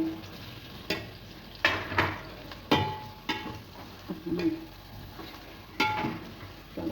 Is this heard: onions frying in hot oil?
yes